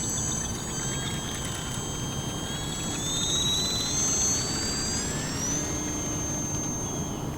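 The electric motor and propeller of an H-King Savage Bobber compact STOL RC airplane whine steadily at high pitch during takeoff, the tone gliding upward as it climbs, over a constant windy rumble.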